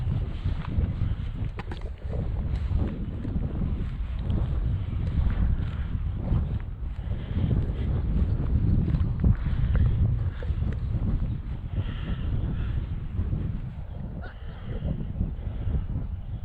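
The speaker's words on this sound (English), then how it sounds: "It's quite a breeze blowing, to be honest, so it must quite take a bit of effort to push into it." A strong breeze blows across a chalk ridge on the South Downs, a continuous rushing buffet that rumbles against the microphone and rises and falls throughout.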